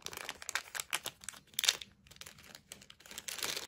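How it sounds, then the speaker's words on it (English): A plastic waste bag crinkles and rustles as used COVID lateral flow test items are pushed inside, giving quiet, close, irregular crackling bursts with no voices. "you should get your waste plastic bag and put this all in there"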